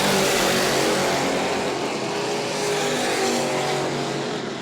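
Super stock race cars roar around the track at New Smyrna, a loud, continuous wall of engine noise from several cars passing close, with no pause in the din.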